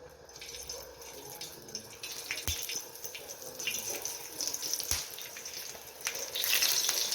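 Green chillies sizzle and crackle in a small amount of hot oil over a lowered gas flame, a steady broadband hiss with occasional sharper pops, fairly close and without talk.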